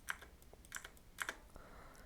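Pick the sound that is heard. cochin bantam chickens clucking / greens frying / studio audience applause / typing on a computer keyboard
typing on a computer keyboard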